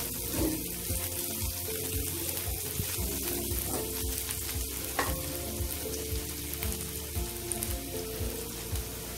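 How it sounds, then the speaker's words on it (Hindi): Onion, green chilies and spices stirred together in a hot pan for green pea dal, with steady frying sizzle and scraping stir strokes throughout, fairly close and continuous with no talking. "मैं प्याज भी डाल देती हूँ और यहाँ पर सभी चीजों को अच्छे से मिक्स कर देती हूँ"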